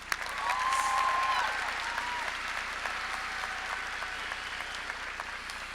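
Audience applause for a brass quintet at a high school graduation ceremony, broad sustained clapping that swells early then settles into a steady, slightly distant patter.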